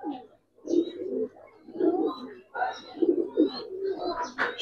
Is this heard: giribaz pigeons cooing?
yes